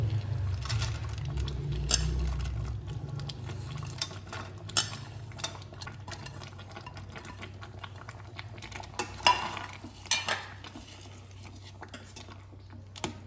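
Tomato chutney with lemon juice and dry fruits is stirred in a pan, with light spoon clinks and scrapes that are scattered and fairly faint against a low steady hum.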